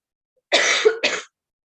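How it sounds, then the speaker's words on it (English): A single sharp cough with a quick second burst, close and loud, followed by silence. "I'm having cough."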